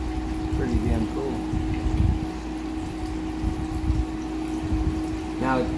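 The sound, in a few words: Gold Drop gold concentrator running with water flow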